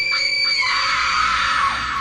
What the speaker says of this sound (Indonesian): dengan teriakan melengking yang memekakkan telinga